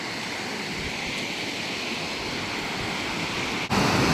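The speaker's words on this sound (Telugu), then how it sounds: "అసలు పెద్ద పెద్ద అలలు ఎలా వస్తున్నాయో చూడండి" Big sea waves breaking on the beach at Hamsaladeevi, a continuous loud broadband roar of surf with no clear gaps, swelling slightly louder near the end.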